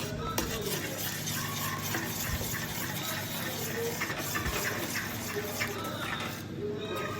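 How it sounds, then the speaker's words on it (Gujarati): Dabeli potato filling being stirred and mixed with salt in a pan, continuous scraping and clinking of a utensil with a watery, wet texture throughout, close and moderately loud. "હવે એને બરોબર મિક્સ કરી લઈશું."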